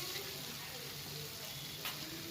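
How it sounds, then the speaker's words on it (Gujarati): Ginger-chili paste sizzles steadily in hot oil with whole spices in a large pot for a dhaba-style sev tomato curry, a constant close frying hiss with faint stirring. "હવે આપણે જે આદુ મરચાંની પેસ્ટ કરી એ નાખી દઈએ 100 ગ્રામ જેવી।"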